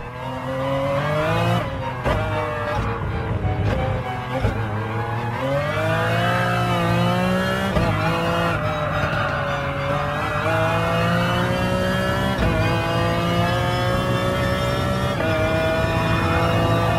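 A race car in Gran Turismo Sport leaves the pits on hard tyres, its engine droning loud and close with rising, sweeping revs and brief shifts through the gears.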